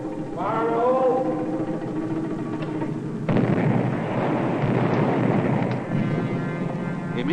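An underground mine blast goes off as one sudden low rumbling boom that sustains. Earlier there is a tonal whine over background wind-like noise.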